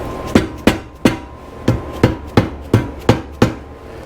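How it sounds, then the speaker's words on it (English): A hammer strikes a part of a vintage Honda CB350 engine during a rebuild, giving ten sharp, close, evenly spaced knocks in a steady rhythm. "Let me give it a couple of smacks."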